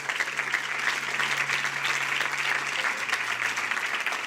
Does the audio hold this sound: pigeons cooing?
no